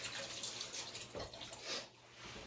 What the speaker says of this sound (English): Now you're going to make me wash my hands again.